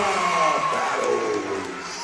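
A gym crowd cheers and whoops loudly during a girls' high school basketball game between the Elton Lady Indians and Northwood Lena Lady Gators, a steady roar of close shouting voices.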